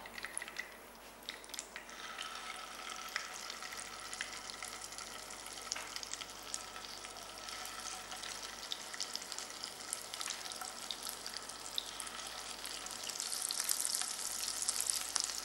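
Minced meat browning in a pan: a continuous close hiss of sizzling and frying with occasional stirring scrapes, growing slightly louder toward the end, with no talk.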